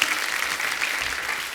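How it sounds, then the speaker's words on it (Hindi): Steady, dense clapping from a studio audience greeting a popular film police officer actor on a Hindi talk show, loud and continuous without a break. "पहले तो जोरदार तालियां."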